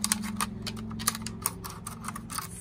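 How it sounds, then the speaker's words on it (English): Scissors snip in a spiral through material for a wind spinner craft, giving a run of quick close clicks and crisp cuts over a low steady hum. "And we're going to cut kind of like in a spiral, like this."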